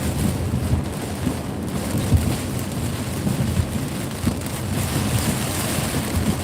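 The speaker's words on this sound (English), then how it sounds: "Feels like we're back in the Keys with all this rain." Heavy rain drums steadily on a car driving a Miami interstate in slow traffic, a dense broadband wash with road rumble and wind noise, loud and continuous throughout with no talking.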